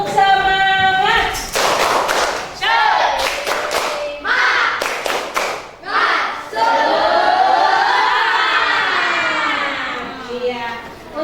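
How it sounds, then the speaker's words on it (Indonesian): A school class does a rhythmic spirit clap in the classroom: several sharp clusters of many hands clapping in a set pattern, mixed with children's voices chanting together between the claps. "Tepuk semangat."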